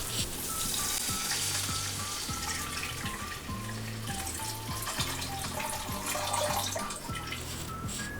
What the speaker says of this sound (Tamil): இப்போ ரைஸுக்கு தேவையான தண்ணி ஊற்றிடலாம்.